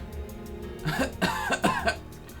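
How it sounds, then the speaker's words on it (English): A game character in Trails From Zero has a coughing fit: a few harsh, closely spaced coughs and throat-clearing bursts, fairly close and moderately loud, with no talk over them. "he's having another coughing fit"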